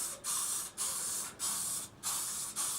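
Black spray paint is sprayed indoors from an aerosol can in about five steady hissing bursts, close and loud, each separated by a short pause.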